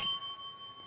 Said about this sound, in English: at the first minutes will be twice bell to signal that POI are open